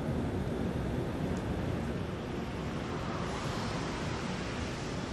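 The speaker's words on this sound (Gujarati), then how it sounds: "અત્યારે ધીમી ધારથી ગાંધીનગરમાં વરસાદ પડી રહ્યો છે, ટપકા પડી રહ્યા છે" Light rain falls steadily over Gandhinagar, a continuous even hiss of drizzle with no voices, alone for the whole stretch.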